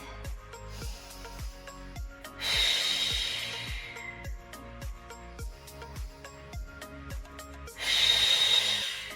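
Deep breaths during a tight-leg stretch in a 30-minute stretching session: two long, breathy exhales rise over steady, rhythmic background music.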